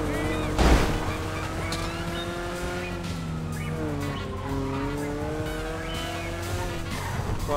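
Car engine in GTA V Online revving and shifting pitch as the vehicle drives off, with a brief loud tire squeal or impact near the start and a steady motor drone under faint game sounds.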